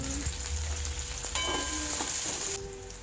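Chopped onion frying in mustard oil for a soybean dish, giving a continuous close hiss of sizzling with a few faint clinks, easing off slightly toward the end.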